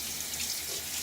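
Tap water runs steadily into a sink to rinse a razor during a wet shave with a Gillette Sheraton, a close, continuous hiss with no talking.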